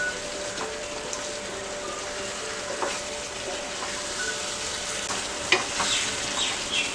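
Chicken pieces for dum biryani cook on full gas with a steady, even sizzle and hiss, a few faint stirring clicks and one sharper knock near the end, close and unbroken by talk.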